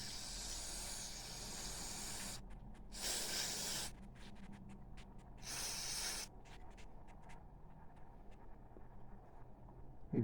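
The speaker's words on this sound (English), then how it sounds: "Now we get some carb cleaner" Carb cleaner sprayed into a leaking carburetor in bursty hissing blasts, two longer sprays followed by several short quick puffs, close and fairly loud over a low background hum.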